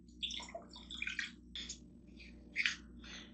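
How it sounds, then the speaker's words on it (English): One cup of water is poured into a small saucepan, heard as faint, broken splashes and trickles in several short bursts against a quiet kitchen background. "In a small saucepan, I need 1 cup of water."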